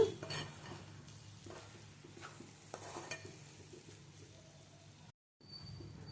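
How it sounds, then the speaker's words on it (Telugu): Chopped coriander is stirred into a pan fry of ponnaganti greens, moong dal and tomato, giving soft scraping and clinking spoon strokes over a low, steady sizzle, with a brief hush near the end. "కొంచెం కొత్తిమీర వేసుకోవాలి, కలుపుకోండి"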